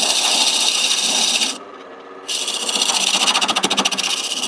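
A wood lathe spins a carving mallet blank at about 1,000 RPM while a tool scrapes the rough shape, giving a loud continuous rasping hiss that drops away briefly mid-clip before resuming with a fluttering rhythmic texture.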